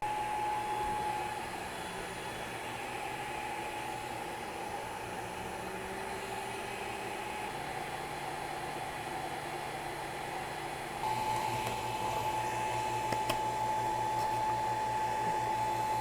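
A 20 watt Longer Ray 5 laser engraver makes a second cutting pass through half-inch plywood, giving a steady whirring hum of fan and motor throughout, with a slight rise in level near the end.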